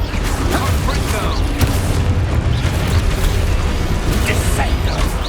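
Confringo explosive spell blasts in Hogwarts Legacy, a steady run of booming bursts and pops layered over busy combat noise, loud and continuous throughout.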